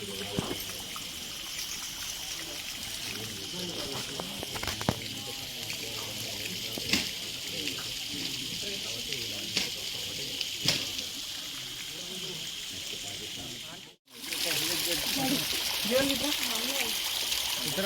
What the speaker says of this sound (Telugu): ఆ నీరు ఐదు పాయలుగా ఇక్కడ ప్రవహిస్తుంది దీనినే పంచాధార అంటారు